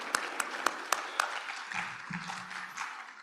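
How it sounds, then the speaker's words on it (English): A live audience at a state trust land forum applauds, steady crowd clapping with a few sharper claps standing out early, fairly distant and moderately loud, with no talk over it. "Let's also give a round of applause to Birch for putting this all together."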